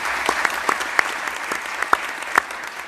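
Thin, scattered clapping comes from a few people at a round-table meeting with the President. The separate claps are sharp and fairly faint, with gaps between them.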